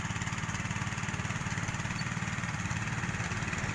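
Small mini tractor soil tiller with its engine running steadily, a continuous pulsing putter with a fast regular chug and rattly mechanical noise, moderately close and unbroken.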